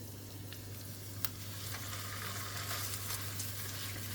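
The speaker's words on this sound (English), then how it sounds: "I'm just gonna stir this up until they're a bit translucent." Ingredients for simple fried rice fry in a fry pan while being stirred, a steady close sizzle with a few sharp spatula taps against the pan over a low constant hum.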